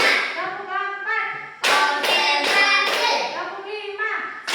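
Schoolchildren in an Indonesian classroom do a counted clapping chant, sharp bursts of group hand claps breaking in between sung, chanted voices.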